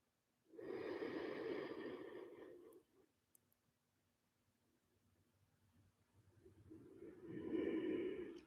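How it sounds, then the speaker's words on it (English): Two long, deep breaths during a restorative wellness session, each a slow, full airy rush lasting a couple of seconds, with a quiet pause between, close and alone. "take 2 more inhales and exhales here. Make them count."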